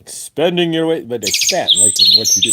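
A phone notification chirps like a flurry of small birds, bright repeated tweets layered loudly over someone talking close to the microphone.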